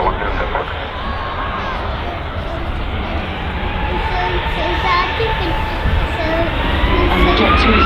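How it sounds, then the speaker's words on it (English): A Jet2 airliner begins its takeoff roll at Manchester Airport, its engines building to a loud, broad roar with a rising whine that swells steadily over the whole stretch, heard from a distance outdoors. "the Jet2 is also now starting its roll as well"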